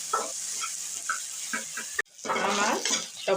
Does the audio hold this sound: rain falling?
no